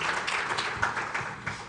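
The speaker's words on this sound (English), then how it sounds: "Kindly join me and help me to give us a round of applause to our distinguished panelists this afternoon." An audience applauds panelists at the Kwibuka 30 conference held by the CERTA Foundation and Rwanda Bar Association, a fairly light, uneven patter of claps with a few sharper hits, moderately near and fading in and out.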